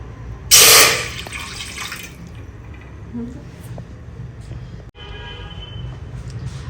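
Water poured from a pot into a pan while making Gujarati lapsi, a loud splashing gush lasting about a second and a half near the start, followed by quiet kitchen ambience.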